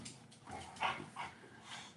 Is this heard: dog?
yes